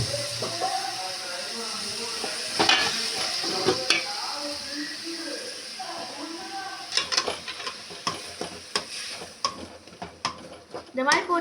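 Tomatoes sautéing in oil for tomato thokku, a soft sizzle and hiss with intermittent stirring clatter that grows busier toward the end; a voice speaks faintly underneath.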